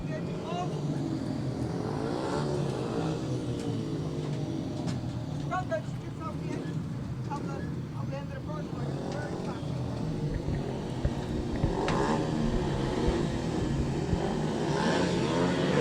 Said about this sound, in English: Now Kyle Newman comes onto the circuit, of course, back-to-back rides.